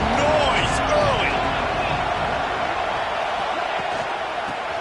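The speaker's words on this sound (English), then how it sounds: "This crowd bringing the energy and noise early." A loud football stadium crowd roars continuously in a dense, steady wash of cheering and noise, with faint announcer commentary under the din.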